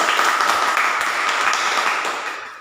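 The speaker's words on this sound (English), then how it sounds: "So again, huge round of applause." Applause from a small audience at a Toastmasters club meeting, a dense, steady patter of many hands clapping together that holds for a couple of seconds and then starts to fade.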